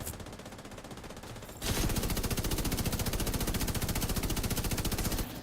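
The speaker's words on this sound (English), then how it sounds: "There's too many bullets happening." Heavy rapid automatic gunfire in The Division 2, a dense rhythmic stream of shots that jumps louder partway through and runs nearly unbroken, with the game audio glitching and overwhelmed.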